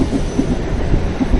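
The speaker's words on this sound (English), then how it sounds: "Look, a train." A train rolls past a cyclist's route, a loud, continuous rumbling rattle of rail cars with rhythmic clacking thumps throughout, close and heard alone.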